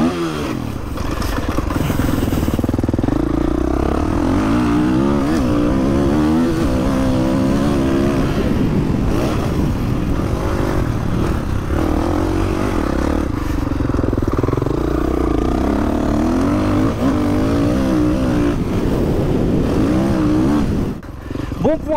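A 2023 Kawasaki 450 KX motocross bike ridden through corners in second gear, its four-stroke engine revving and falling in continuous loud sweeps, close up and sustained throughout.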